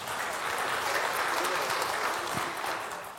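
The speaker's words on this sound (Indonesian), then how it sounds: "Ya tepuk tangan dulu lah buat Metro TV" Audience applause at an Indonesian televised economics discussion on consumption and growth, a steady moderate clapping that swells and then tapers slightly toward the end.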